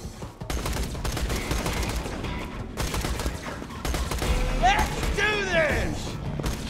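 Rapid bursts of gunfire rattle through a Borderlands firefight, loud and sustained, with mechanical clanks and whining, warbling energy effects rising near the end.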